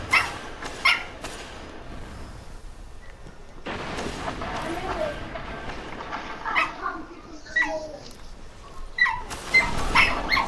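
A dog in a video game cries out in a few short, whining yelps amid sharp combat bangs and other game noise, with a person talking at intervals.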